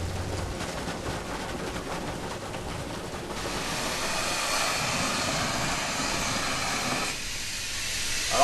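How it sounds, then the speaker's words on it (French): Steam hisses through soap-making equipment at a Marseille soap works, a loud, steady rushing roar that shifts character partway through, then briefly drops out before resuming, with no voices. "Alors là, c'est en train de passer la vapeur."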